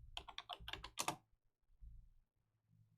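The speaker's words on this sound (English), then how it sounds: "So you just type Python," Quick burst of typing on a computer keyboard while entering a search to download Python: a dense run of crisp keystrokes for about a second, then quiet with only a low hum and a few soft taps.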